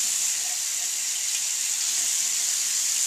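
Tap water runs steadily from a sink faucet for hand washing, a constant bright hiss filling the whole clip at close range with no talk over it.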